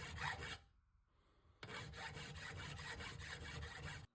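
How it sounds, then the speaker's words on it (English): A Nicholson file rasps across the end of a metal pipe elbow in a repeated rhythmic stroke, with a short pause and then steady back-and-forth filing, close and alone. "I use Nicholson files for filing metal."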